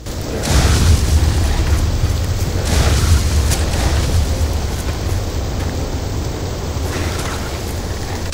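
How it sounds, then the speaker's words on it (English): A loud, sustained explosion rumble from the Starship Troopers video game, a deep booming roar that starts abruptly and rolls on steadily for several seconds with crackling debris noise over it, no voices. "Now get clear of the blast."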